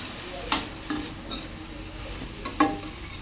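Vegetables coated in sauce and vinegar stir-fried over a high flame for restaurant-style egg fried rice, with a soft steady sizzle broken by a few sharp scrapes and clatters of a spatula against the pan, near and alone.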